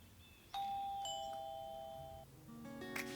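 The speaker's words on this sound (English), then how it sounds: "She rang the doorbell on the door." A doorbell chimes twice in a clear ding-dong, its tones ringing out and fading, followed by a short burst of other electronic tones.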